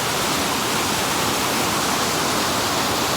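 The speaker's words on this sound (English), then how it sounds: "You can hear the water rushing down" Steady, dense rushing of river water, a constant broadband roar with no pauses, close by and loud, no voices.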